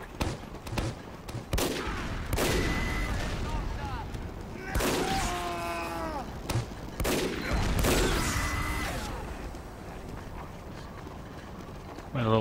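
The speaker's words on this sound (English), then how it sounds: "A little sniper exchange there." Sniper rifle shots trade back and forth during a Team Fortress 2 competitive match, sharp cracks scattered among other gunfire and explosions, mostly under continuous excited commentary.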